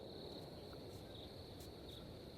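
Crickets chirp in a video game's ambient soundscape, a faint, steady high trill with occasional louder chirps over low background hiss.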